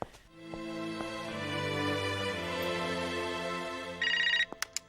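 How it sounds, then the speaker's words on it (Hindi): A telephone rings indoors in a home during a Bollywood family drama scene, a steady electronic ringing tone that runs for several seconds, followed by a brighter burst and a few short clicks near the end. "वो पूजा घर पे फोन ट्राई कर रही होगी"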